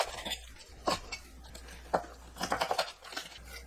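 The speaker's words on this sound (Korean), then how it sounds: "내장 손질한 오징어를 썰어주세요." A knife slices cleaned squid on a cutting board, with several soft, quick chopping taps in close succession over a low background hum.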